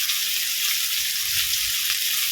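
Galunggong fish frying in oil makes a dense, even, loud sizzle that holds steady throughout, close by and with no talking.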